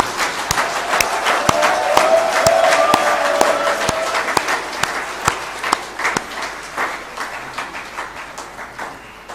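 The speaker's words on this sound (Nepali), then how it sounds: "बेसरी सबैले अलिकति ताली बजाउँ त" An audience at a political gathering in Nepal claps for a newly named coordinator. Individual claps ring out sharply over a steady crowd patter, and the applause gradually thins out.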